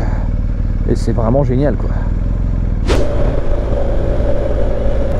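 BMW GS Adventure motorcycle with ShiftCam engine running close by, a steady low exhaust rumble throughout, a rising rev near the middle settling into a sustained drone, with someone speaking French over the engine early on.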